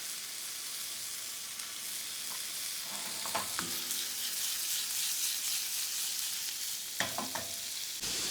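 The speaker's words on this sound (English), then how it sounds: "Just frying my chicken." Chicken frying in canola oil gives a steady, close crackling sizzle throughout, with a few brief clinks and scrapes mixed in.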